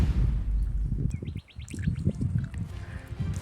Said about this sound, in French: il y a le bruit des oiseaux et tout